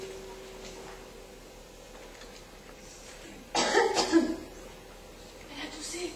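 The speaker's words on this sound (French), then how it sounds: "Elle a toussé." A woman coughs once in a theatre performance, a short burst of two or three close coughs after a quiet stretch, followed by faint rustling.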